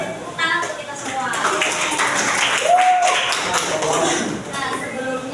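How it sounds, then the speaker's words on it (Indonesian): Scattered audience applause fills a university seminar room, moderate and fairly close, with a voice briefly speaking over the clapping partway through. "beri tepuk tangan untuk kita semua"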